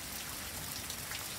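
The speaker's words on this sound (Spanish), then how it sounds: "Pero miren qué rico, está lloviendo" Rain falls outside in the dark, a steady soft hiss of drops on surfaces, faint and even with no voices.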